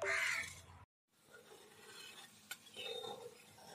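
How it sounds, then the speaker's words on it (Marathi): Sugar syrup being stirred in a pan for Goan bebinca, close scraping spoon strokes with a brief pause and a small clink, no talking. "आणि हे आता आम्ही व्यवस्थित असं ढवळून घेऊया"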